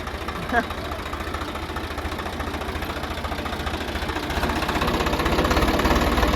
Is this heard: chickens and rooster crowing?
no